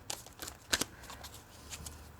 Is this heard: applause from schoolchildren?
no